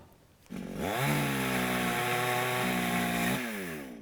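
A chainsaw revs up and cuts steadily through the wooden frame of a hunting blind, loud and close, with a sustained high engine whine before easing off.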